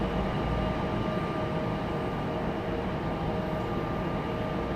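A JetBlue Airbus A220 airliner pushing back at Raleigh-Durham airport gives a steady, continuous broadband jet whine and roar, even in level and heard from a distance, with no talking.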